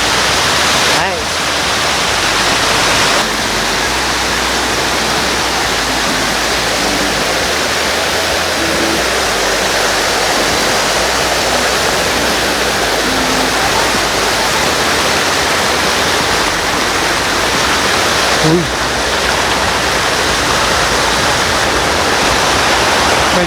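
A strong river current rushes in a steady, loud roar of churning water throughout, with brief voices nearby.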